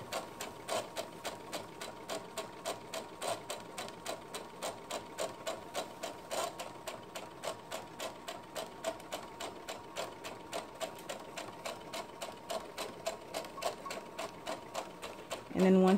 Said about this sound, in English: go ahead and kind of realign your fabric and sew through your seam